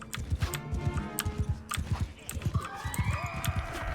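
Horse hooves clip-clopping in a video game, a steady rapid clatter of hoofbeats through most of the stretch, with a higher whinny-like tone rising near the end.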